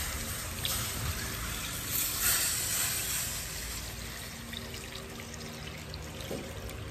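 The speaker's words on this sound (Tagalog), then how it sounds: "So ngayon, lalagyan na natin ng tubig." Water pours steadily into a cooking pot holding meat, with a continuous splashing, trickling rush, fairly close and running without a break.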